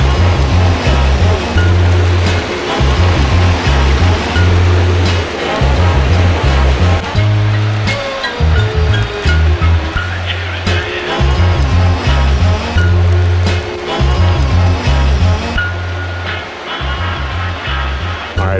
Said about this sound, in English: this is river crossing number 4